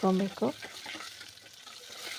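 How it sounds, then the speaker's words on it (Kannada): A tempering of mustard seeds, garlic, onion and curry leaves fries in hot oil for lentil soup, a soft steady sizzle following a brief burst of voice at the start. "ಸೊಪ್ಪು ಹಾಕಿ ಚೆನ್ನಾಗಿ ಒಗ್ಗರಣೆಗೆ ರೆಡಿ ಮಾಡಿ"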